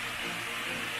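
At Gugok waterfall, water falls and crashes from the rocks above into a steady, dense roar with no breaks and no voices over it.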